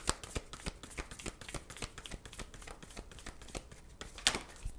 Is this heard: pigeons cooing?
no